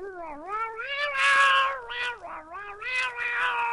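A cat meows repeatedly and loudly up close, a string of wavering, plaintive cries running together with a few brief pauses.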